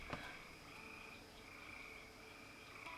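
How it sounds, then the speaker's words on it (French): Frogs croak steadily beside a night-time river with lily pads and fireflies in the video game Ronin, a continuous layered chorus of calls held at moderate distance throughout. "j'écoutais le son des grenouilles tout en observant la lumière des lucioles"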